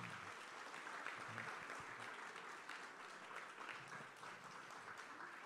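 A seated conference audience at an event on aging and longevity applauds steadily, with dense, even clapping that stays faint and distant throughout.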